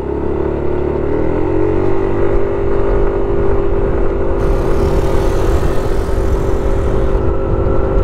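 A Yamaha NMAX scooter engine pulls up a steep hill, its note rising early and then holding a steady, strained drone under heavy wind rush, loud and close.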